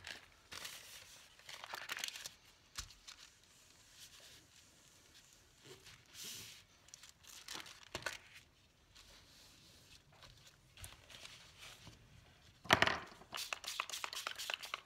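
Paper for a junk journal is snipped and handled at close range, with quiet crinkling, scattered cuts and rustles spread over a mostly faint, intermittent stretch.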